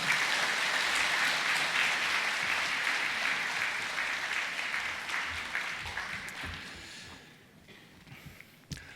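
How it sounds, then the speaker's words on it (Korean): A church congregation gives a round of welcoming applause during a Sunday service, full clapping that holds steady, then thins and fades out over the last few seconds, leaving scattered claps. "우리 환영과 격려의 박수 한번 해주시면 좋겠습니다"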